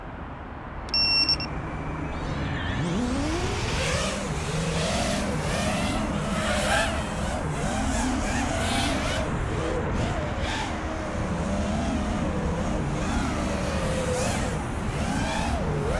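Eachine Wizard X220HV 6S FPV drone on stock Betaflight PIDs, its motors giving a steady, loud whine that swells and dips with throttle changes throughout. A few short beeps sound at the start.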